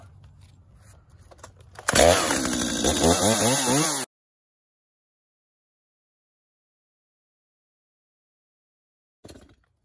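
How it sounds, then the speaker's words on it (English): A chainsaw cutting a wooden split rail fence post revs loudly for about two seconds, its pitch rising and falling as it bites, then cuts off abruptly; a short burst follows later. "we'll cut that line with the chainsaw blade"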